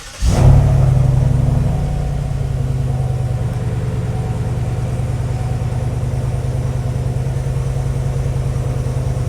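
A Chevrolet Silverado pickup engine fitted with a cold air intake cranks and catches with a brief loud rev, then settles into a steady, rumbling idle, heard up close with no talking.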